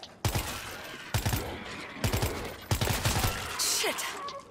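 Repeated bursts of gunfire from a World War Z match in Moscow on Xbox One X ring out in rapid volleys, loud and close, with short pauses between strings of shots.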